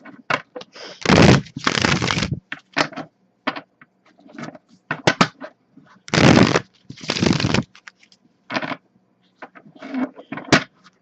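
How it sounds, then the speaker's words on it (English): Tarot cards being shuffled by hand in several separate bursts, quick riffling rustles and soft taps with short pauses between them, close up. "This deck obviously shuffles a bit easier"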